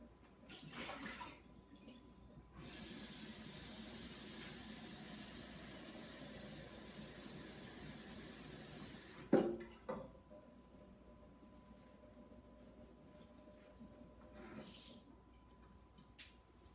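Tap water pours steadily into a cooking pot as it is refilled for noodles, a loud, even rush lasting several seconds, preceded and followed by softer splashes and clatter.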